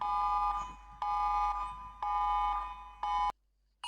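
New Zealand's tsunami emergency alert plays as a loud, piercing electronic tone pulsing in three one-second bursts with brief gaps, then a short fourth burst cut off into silence.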